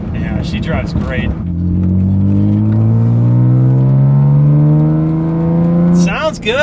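BMW E36 M3 with the S52 inline-six pulling hard under acceleration, a loud, close engine note climbing steadily in pitch for several seconds, with brief talk at the start and end.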